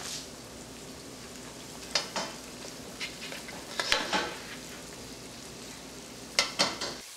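Curry leaves frying and sizzling in a pan while making Kerala mutton biriyani, a steady crackling hiss broken by several sharp spatters and stirring scrapes, close and moderately loud with no talking.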